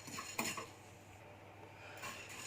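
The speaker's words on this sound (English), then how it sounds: "throw this red chili like this and dry roast for another 3 to 5 minutes" Red chili and spices dry roasting in a pan over a very low flame for a Chettinad potato roast. Quiet, with a few soft spoon scrapes and light clinks against the pan and no talking.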